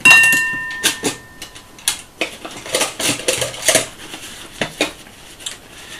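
A Trangia camping-stove pot gripping handle handled against metal cookware, producing a close series of irregular sharp clanks, clicks and rattles, with no talk over them.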